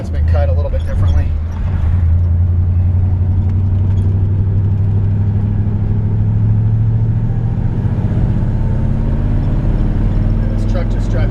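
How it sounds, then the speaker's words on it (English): A 1954 Ford F-100 pickup cruises with a steady low engine drone and road rumble underneath, while someone talks over it throughout. "And this truck just drives so smooth."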